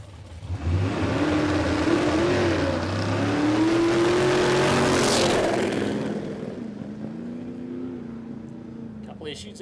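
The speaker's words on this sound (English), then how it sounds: "Issues there for Dave by the sounds of that" A loud drag racing car with a Cleveland engine roars up and sustains a rising, wavering drone at a dragstrip, then drops away and fades while a voice speaks over it.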